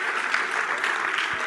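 A live fireside-chat audience claps steadily for a moment, a dense even wash of many hands with no pauses.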